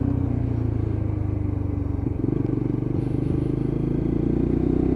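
A Lexmoto LXR Euro 5 motorcycle, black and gold, on a test ride, its engine droning steadily and close with a low continuous rumble, a brief dip around a gear change, and road noise underneath.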